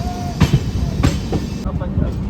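The New Delhi–Dehradun Jan Shatabdi Express arrives at Ghaziabad railway station, rumbling close by with a steady roar and a few sharp clacks of wheels over rail joints, a faint squeal briefly showing above.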